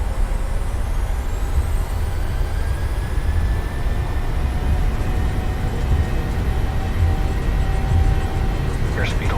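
Boeing 737-800 engines in Microsoft Flight Simulator spool up for takeoff, a loud steady roar with rising tonal whines sweeping upward, continuous throughout without pause.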